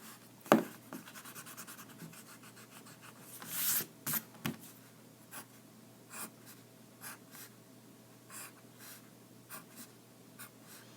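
Marker or chalk drawing on a board, heard as a series of close scratching and rubbing strokes, some sharp and loud, others brief and faint, spaced irregularly with pauses between them.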